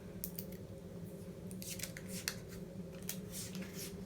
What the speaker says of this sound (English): I go ahead and start taping